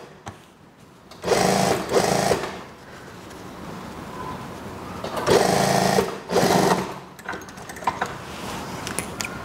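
A sewing machine stitches a school skirt waistband in two loud bursts of running, each lasting about a second, with a quiet pause between and faint handling noise around them.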